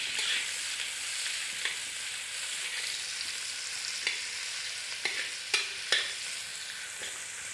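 Chopped onion and green chilli sizzle steadily in a frying pan while a utensil stirs them, a continuous close hiss broken by a few sharp scraping clicks toward the end.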